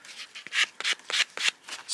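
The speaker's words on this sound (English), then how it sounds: "And then just take a sanding sponge" A sanding sponge rubs back and forth over a homemade interior door key, giving about six short, close, scratchy strokes in an uneven rhythm, quiet and with no talking.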